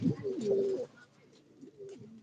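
Domestic pigeons coo from a rooftop loft in a few low, rolling phrases, one fuller call at the start and softer murmurs after, close and alone.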